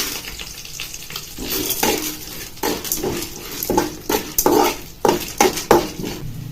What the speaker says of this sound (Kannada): ಒಂದು ನಾಲ್ಕು ಮೆಣಸಿನ್ಕಾಯಿ ಕಟ್ ಮಾಡಿ ಇದ್ದೀನಿ ನೆಕ್ಸ್ಟ್ ಕಡಲೆಬೇಳೆ ಆ್ಯಡ್ ಮಾಡ್ತಾ ಇದ್ದೀನಿ